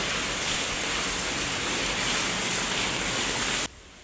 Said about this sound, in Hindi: बहुत तेज़ बारिश थी।